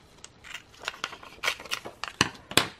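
Scissors snip paper during a photo-transfer craft on altered playing cards: a quick series of crisp, close cuts and crinkles, fairly faint and irregular.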